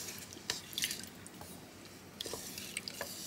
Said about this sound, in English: I'm just going to give this a stir. Because remember, the rice and everything is in there.